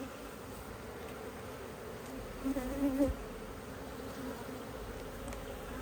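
Honeybees buzz around an open hive during an inspection of late splits. A dense, steady drone fills the clip, and a closer bee passes by loudly for a moment midway. No one speaks.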